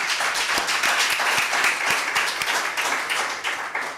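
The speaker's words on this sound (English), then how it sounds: "And a round of applause to all of us." Audience applause closes an African BioGenome Project Open Institute regional conference session: dense, steady clapping from a full room that holds for about four seconds and eases slightly at the end, with no talk over it.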